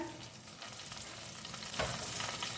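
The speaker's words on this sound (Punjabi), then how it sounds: "ਚੰਗੀ ਤਰ੍ਹਾਂ ਤੇਲ ਗਰਮ ਹੋਣ ਤੋਂ ਬਾਅਦ ਇੱਕ ਚਮਚਾ ਜੀਰਾ ਥੋੜੀ ਜੀ ਰਾਈ 1 ਪਿੰਚ ਹਿੰਗ ਥੋੜਾ ਜਿਹਾ ਕੜੀ ਪੱਤਾ" Cumin, mustard seeds, asafoetida and curry leaves sizzle steadily in hot oil for an aloo baingan dish, a close, dense crackling hiss that swells briefly near the end as the spices pop.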